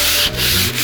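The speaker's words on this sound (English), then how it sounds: "Now here you're sanding" Short rasping strokes of sandpaper rubbing across wood, two quick scrubbing passes close up.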